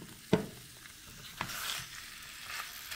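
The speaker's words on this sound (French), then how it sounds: "dans ma poêle, j'ai rajouté un peu d'huile. Je vais venir mettre ma viande." Meat frying in a little oil in a pan, a steady close sizzle with a few sharp clatters from stirring near the start and middle.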